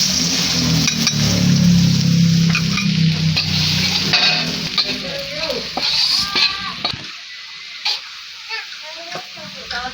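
Garlic dropped into hot oil in a pan sizzles loudly at first, then fades to lighter crackling and occasional utensil clinks, with voices talking over it.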